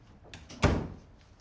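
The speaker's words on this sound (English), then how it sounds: "Close the door." A door is shut indoors in a drama scene, giving one solid thud near the middle of a quiet moment with no voices.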